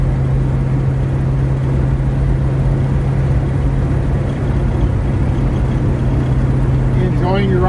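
A 1966 SS Chevelle convertible cruising along a road, its engine giving a steady low hum with road and wind rumble, continuous and even from inside the car.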